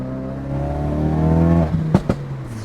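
A Ford Focus RS, rebuilt after a wreck, accelerating hard with a rising engine tone climbing through the revs, then a lift-off and a couple of sharp pops or clunks.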